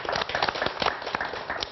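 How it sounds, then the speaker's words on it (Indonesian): An audience applauds a performer at a comedy political show, a short spatter of many claps with sharp individual hits, fairly close and steady. "Tepuk tangan dong buat Bang Once."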